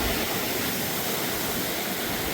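Rising creek water rushes through a flood channel during Hurricane Helene in western North Carolina, a steady, dense broadband roar that stays loud and unbroken throughout.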